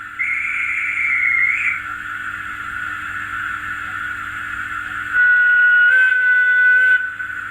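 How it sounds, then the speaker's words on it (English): Two whistles from a sound-fitted OO gauge Rapido Metropolitan Railway E class DCC model locomotive: first a steady, fairly loud guard's whistle lasting over a second, then after a pause a brighter, louder driver's right-away whistle holding for about two seconds. "Guard's whistle and driver right away whistle."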